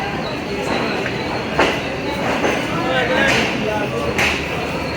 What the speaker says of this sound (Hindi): ये रेल कार है।